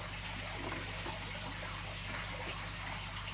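Water trickles steadily into a bowl, a continuous faint splashing and gurgle with no talk.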